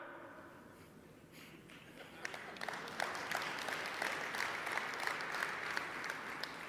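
An audience applauding at a live motivational talk, a broad wash of many hands clapping that swells and holds steady, heard at a distance in a large room.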